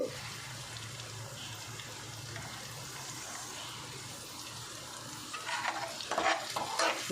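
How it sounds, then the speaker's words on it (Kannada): Onions sizzle and fry steadily in a pan, with a low hum underneath and a burst of stirring and scraping near the end. "ಇದಕ್ಕೆ ಫಸ್ಟಿಗೆ ಈರುಳ್ಳಿ ಹಾಕ್ಕೋಬೇಕು"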